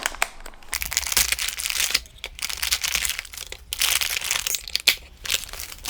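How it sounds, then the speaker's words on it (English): Nylon ANL fuses and fuse holders pulled from a crinkly Ziploc-style plastic bag, with loud, close crumpling and rustling of plastic in bursts that pause briefly around the two- and three-and-a-half-second marks. "Let's take them out of the packaging."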